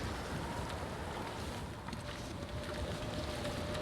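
Steady wind blowing across a snowy wilderness in The Long Dark video game, a constant broadband rush that stays loud and even from start to finish, with no voices.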